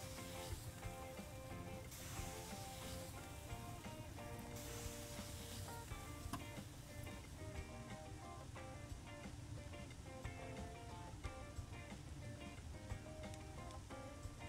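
Sausages on a grill in the restaurant simulator game Kebab Chefs, a constant soft sizzle and hiss that runs without a break under steady background tones.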